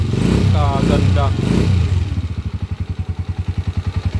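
A freshly overhauled motorcycle engine idles up close in a workshop, its steady even putter settling into a smooth regular beat after a few seconds of talk over it.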